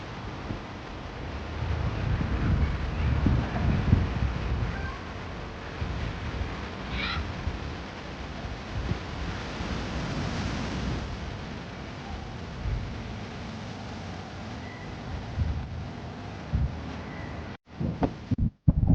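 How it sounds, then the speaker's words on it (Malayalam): Sea wind at Shankhumugham beach rumbles and buffets the microphone in uneven low gusts for most of the stretch, then cuts out abruptly near the end. Nobody speaks. "നല്ല കാറ്റുണ്ട്, നല്ല സുഖം."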